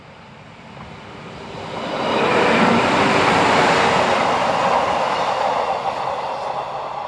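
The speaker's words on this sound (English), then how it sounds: "The same train is seen departing the station at Heiligenstadt" A train pulls out of Heiligenstadt station near Tüssling, its rumble and wheel noise swelling after about two seconds into a loud, sustained roar that holds steady before easing slightly, with no talking.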